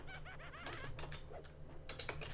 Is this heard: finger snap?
no